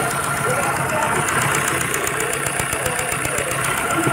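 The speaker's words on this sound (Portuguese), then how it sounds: "E o supercharge tá fazendo barulho." Car engine idling with a noisy supercharger, a steady close mechanical drone carrying rapid rhythmic knocking and a high whine throughout.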